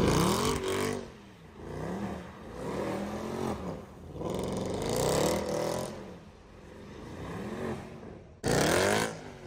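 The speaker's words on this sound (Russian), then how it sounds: "Сейчас крутить будет, слушайте звук выхлопа." A 6.2-litre drift car revving hard at a drift event in Dagestan, loud exhaust rising and falling in repeated surging pulls with brief lulls between, close and aggressive.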